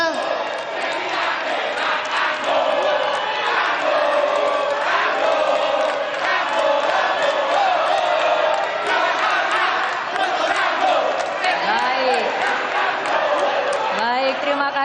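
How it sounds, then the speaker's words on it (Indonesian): A large audience at a public election debate at a convention center applauds and cheers continuously, loud and dense crowd noise with shouts rising through it, sustained at an even level throughout. "boleh tepuk tangannya."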